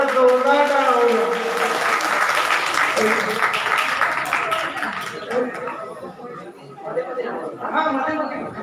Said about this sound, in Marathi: हे माझं बालपणाचं गीत सगळ्यांना आवडत असेल तर जोरदार टाळ्या वाजवा.